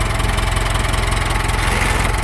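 A Ford 6610 tractor engine runs steadily during a reverse gear test, with a close, loud, even low throb and rattling mechanical vibration throughout and no talk.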